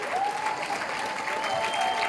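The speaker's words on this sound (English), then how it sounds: "Give them a round of applause" A crowd at a training event applauds steadily, a dense even wash of clapping that carries through the whole short stretch at moderate level, with no talk over it.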